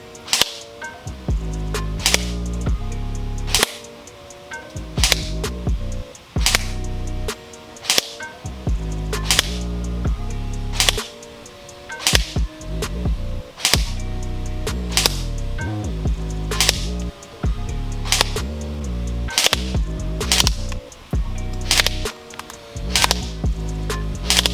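An Elite Force H&K G36C electric blowback airsoft rifle firing 0.25 gram BBs outdoors: sharp, loud cracking shots in steady semi-auto rhythm, each with a mechanical blowback clack, repeated many times across the clip with brief pauses, no talking.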